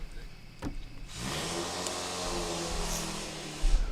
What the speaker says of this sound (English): We have Blue Jay star Ace revving the engine in the background.